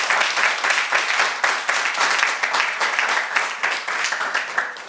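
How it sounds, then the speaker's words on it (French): Audience applause fills the whole stretch, a dense, steady wash of many hands clapping at even loudness, with no voices rising above it. "Applaudissements s'il vous plaît."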